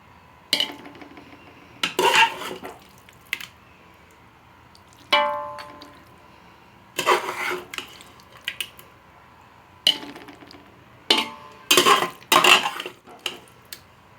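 Rice being spooned into a pot in layers for Kathiyawadi biryani: scattered bursts of metal spoon scraping and clinking against cookware, separated by quiet pauses, close by and without talk.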